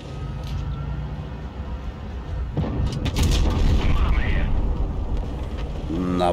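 A Vz. 55 tank cannon fires in World of Tanks Blitz with one deep, booming shot in the middle of the moment, followed by a mechanical rumble and clanks over steady engine noise.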